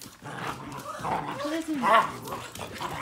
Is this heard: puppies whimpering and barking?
yes